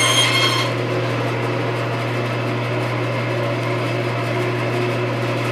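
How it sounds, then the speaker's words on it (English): A scroll saw runs steadily as it makes a finished cut in wood for a large sign pattern, giving a constant motor hum and buzzing blade throughout at close range, loud and unbroken. "I'll go in with the scroll saw and make a finished cut."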